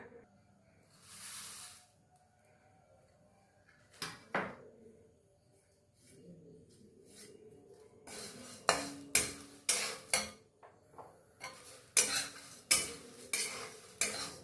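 Flattened rice (aval) dry-roasting in a hot iron wok, with a spatula scraping and stirring. Sparse scrapes at first, then steady rhythmic strokes against the metal, close and fairly loud, with no voices.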